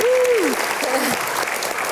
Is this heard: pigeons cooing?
no